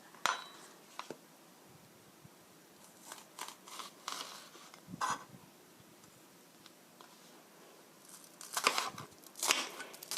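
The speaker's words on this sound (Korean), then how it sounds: "양파 이렇게 얇게 썰어주세요" Kitchen knife thinly slicing an onion on a cutting board, heard as scattered crisp taps and clicks in irregular bursts, with quieter gaps between them; the cuts are close but moderately soft.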